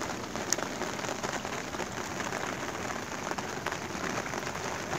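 Rain falls steadily while fishing for silver carp, a soft, even hiss of drops on water and surfaces that carries on unbroken, fairly faint, with no voices.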